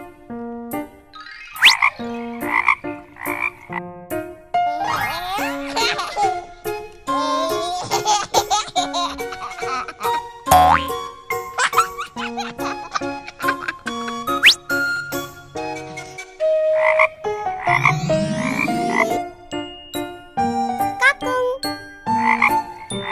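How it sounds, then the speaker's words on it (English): A toy frog sound-effect gadget croaks repeatedly in playful bursts, mixed with jingly tinkling tones, chimes and electronic toy melodies, loud and close throughout. "Join us, Mr. Frog"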